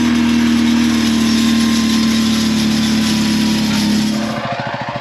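An engine-driven water pump runs loud and close with a steady droning hum, then its note drops and turns to a pulsing chug near the end.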